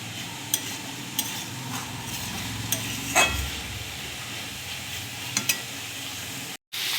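Egg and onion-greens curry sautés in a pan with a steady close sizzle, punctuated by occasional spatula scrapes and taps against the pan, no voices over it.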